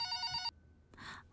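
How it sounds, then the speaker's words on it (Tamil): A landline telephone bell rings in a home, one bright electronic ring of about half a second, then a short pause and a softer partial second ring, fairly quiet overall. "How come you have a call on our landline?"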